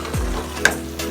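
Mushrooms frying in a pan for mushroom pulao give a steady, close sizzle with a couple of short clinks or stirring scrapes, with no talking.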